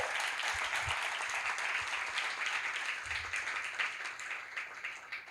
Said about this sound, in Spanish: creo que merece un aplauso en el nombre de Jesús